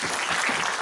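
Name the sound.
congregation applauding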